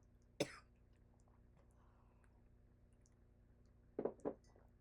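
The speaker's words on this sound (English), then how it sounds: "I don't know why I'm coughing so much and choking so much" A sharp cough breaks a quiet room, followed a few seconds later by two more quick coughs close to the mic.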